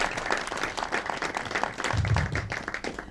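A crowd applauds steadily, a dense wash of many hands clapping at moderate distance, with no talking.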